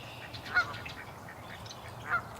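Geese in a swamp give two short honks about a second and a half apart, moderately distant and faint over a low background hum.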